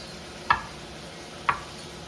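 A knife slicing baby portobello mushrooms into thin pieces on a cutting board, making two crisp, close taps about a second apart against a quiet background.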